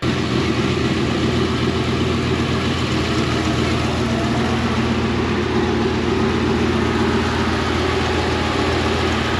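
An LS V8 swapped into a Nissan GQ Patrol runs steadily close by, a loud, even idle rumble with no talk.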